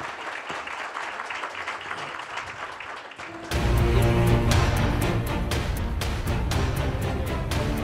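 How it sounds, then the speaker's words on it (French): Audience applause at a luxury-themed panel discussion, breaking out loud and sustained after a softer stretch with music, dense clapping filling the rest of the moment. "On peut les applaudir."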